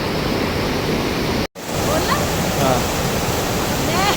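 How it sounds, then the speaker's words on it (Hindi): Fast-flowing river water rushing nearby in a mountain valley: a loud, steady broadband roar that fills the scene, briefly cut off once, with faint voices in the background. "पानी बहुत तेज है"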